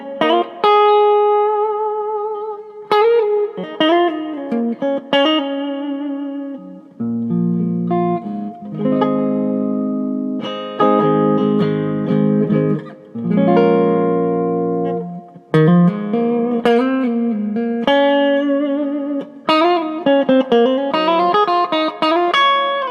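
Ibanez Prestige electric guitar played through a Carvin Legacy 3 amp with warm reverb, clean ringing notes and chords with long reverb tails and some bends, loud and alone with no talk.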